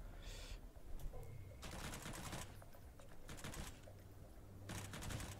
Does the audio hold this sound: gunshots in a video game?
yes